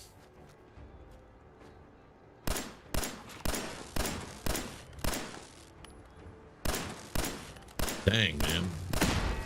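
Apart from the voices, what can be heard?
turret gunfire in the video game Fallout 4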